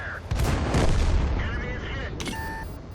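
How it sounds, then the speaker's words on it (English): A tank gun fires in World of Tanks with a sharp, loud boom, followed by rumbling game effects and a few tonal interface beeps near the end. "So I grabbed on the auto-aim and shot as soon as I could."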